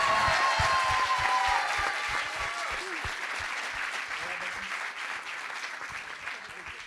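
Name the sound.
audience applause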